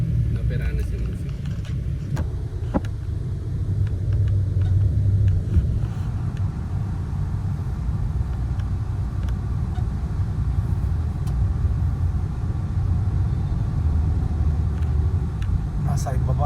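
A car drives along a Manila road heading toward the Skyway, with a steady close engine and road rumble filling the whole stretch and traffic around it.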